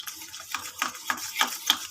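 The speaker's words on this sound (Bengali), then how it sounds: "ভালো করে ডিমটাকে গুলে নিলাম।" Eggs are beaten in a bowl for a mughlai paratha, with quick rhythmic whisking strokes and light clinks, close and fairly loud.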